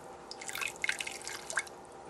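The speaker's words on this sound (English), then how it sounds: "But I'm going to add about a 1/4 cup of water in there" A quarter cup of water poured into a pan with pork chops for a peanut glaze Thai dish, heard as a short run of light drips and splashes, close and quiet, with no talking.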